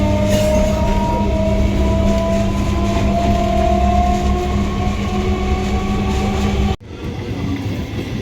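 A passenger train on the Kolkata to Darjeeling route rumbles along, heard from inside a carriage as a loud, steady drone with tonal whine. Near the end it drops abruptly to a quieter, rougher rumble.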